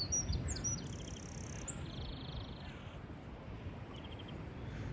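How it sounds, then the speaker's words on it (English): Birds chirp and tweet thinly over steady wind and surf rumble on a morning walk along Bournemouth beach, with a few short calls standing out and then fading. "Oh, you listen to the birds."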